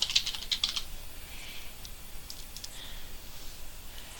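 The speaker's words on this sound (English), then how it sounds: "We're going to click New Topic, and we're going to type in" Keys clatter in a quick burst of typing on a computer keyboard, a handful of close, light taps in the first second, then only faint scattered clicks over quiet room tone.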